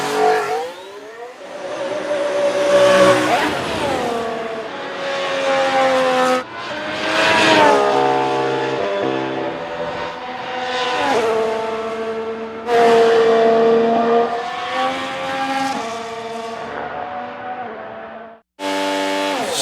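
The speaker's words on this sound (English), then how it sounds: "Look at that Ferrari go." Ferrari-powered Formula 1 car at a preseason shakedown, with a loud high-pitched engine rising and falling through gear changes as it passes repeatedly, alone with no voices.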